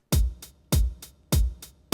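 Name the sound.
G-funk beat with bass slide and drum fill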